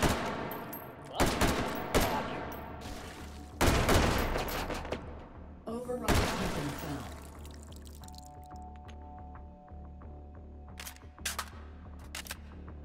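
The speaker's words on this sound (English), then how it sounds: "Okay, so machine gun." Rapid bursts of machine gun fire in the HTC Vive VR shooter Hot Dogs, Horseshoes & Hand Grenades, loud close volleys early on, then lighter scattered shots and clicks over a low rumble.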